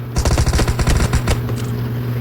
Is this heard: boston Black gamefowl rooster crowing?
no